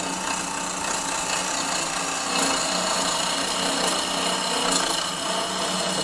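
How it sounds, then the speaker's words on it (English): A skew chisel makes a peeling cut on waste wood spinning on a lathe, giving a continuous hissing, rasping scrape at steady loudness throughout, with no talk. "Just spinning this wastewood away with this peeling cut in towards the stead."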